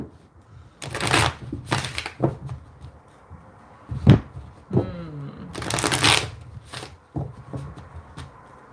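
Several separate bursts of tarot cards being shuffled up close, riffling sharply with quiet pauses and small handling clicks between them.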